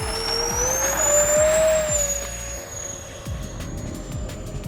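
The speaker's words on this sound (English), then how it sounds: "Throttle up slowly to full to avoid loading up the nose wheel" A Freewing A-10 RC jet with 64mm electric ducted fans spools up for takeoff, a steady whining tone rising in pitch over a rumbling hum, close and loud, then easing slightly.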